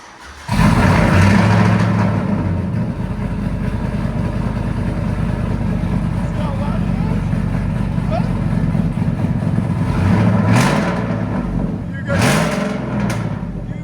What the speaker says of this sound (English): Supercharger, long tube headers, and then what we did on it was a FLOWMASTER Outlaw and duals out the back